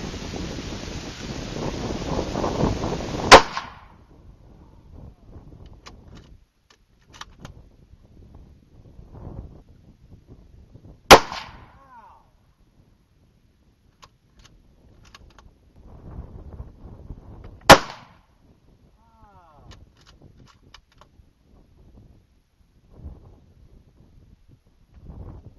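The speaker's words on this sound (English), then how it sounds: "we're going to shoot some soup cans with my 223 here" A .223 rifle fires three sharp, loud shots at soup cans about 50 yards off on a Texas hog hunt, spaced several seconds apart, with wind noise and quiet outdoor rustling between them.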